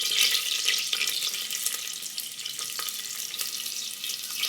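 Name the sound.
mustard seeds, cumin and onion frying in oil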